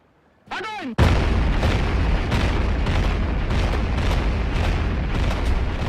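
Massed Soviet artillery, including thousands of cannons and multiple rocket launchers, firing at the Battle of Stalingrad in 1942: a brief whistling shriek, then a sudden sustained roaring barrage of overlapping booms and rumbling blasts that continues loud and dense throughout.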